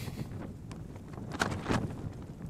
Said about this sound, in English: the wind's picked up again. It's probably the strongest it's been all night.